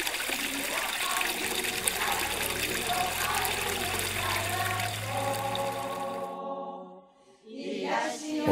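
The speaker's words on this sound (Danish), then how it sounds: "Det drypper og risler med smeltevand alle vegne." Snow meltwater trickles and splashes steadily at close range under a music bed, then drops away to near silence before a brief swell of flowing water returns.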